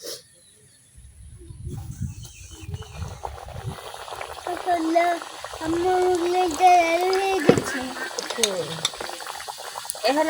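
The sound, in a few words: pocket mughlai frying in oil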